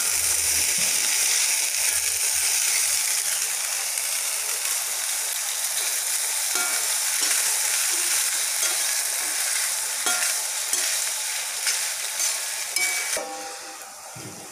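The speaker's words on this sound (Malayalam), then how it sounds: "നമ്മുടെ പുളിവെള്ളം നന്നായിട്ട് തിളച്ചിട്ടുണ്ട്." Salted tamarind water boils hard in a pan while horse gram dishes are being cooked. It gives a steady, close sizzling and bubbling with occasional clicks, easing off toward the end.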